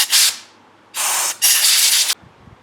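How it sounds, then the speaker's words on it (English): Compressed air blasted over engine parts during an LS swap, three loud close hissing bursts, a short one and then two longer ones back to back. "I'm going to blow everything out with some compressed air."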